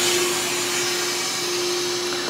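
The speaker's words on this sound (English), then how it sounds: "you're gonna want to release the vacuum, which means you're gonna turn your valve back to" The vacuum releases on a Harvest Right Pro freeze dryer as a steady, loud rushing hiss of air with a constant hum beneath it, sustained without a break.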